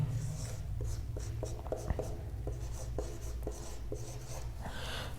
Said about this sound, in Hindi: क्वेश्चन में लिखता हूँ